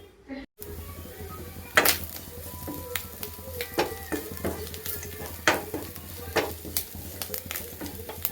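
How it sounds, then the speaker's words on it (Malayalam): Grated coconut dry-roasting in a pan for beef curry, a steady soft sizzle with repeated scraping and stirring strokes of a spoon against the metal, close and moderately loud, with a few sharper clinks throughout. "ബീഫ് വറുത്തരച്ച് വെക്കാമെന്ന് കരുതി തേങ്ങ വറക്കുന്നതാണ്"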